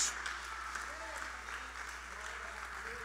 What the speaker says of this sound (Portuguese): Se você me entende, aplauda o nome do Senhor